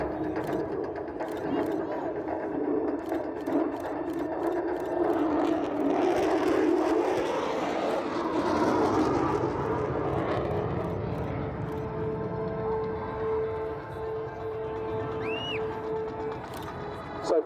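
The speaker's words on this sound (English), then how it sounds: "Coming up, now this high-speed pass, wings level, now 200 feet, 540 knots" A jet aircraft makes a high-speed low pass at 200 feet and 540 knots at a Central Coast airshow at Warnervale Airport, a loud rushing roar that swells in the middle and then fades, with a commentator talking over it.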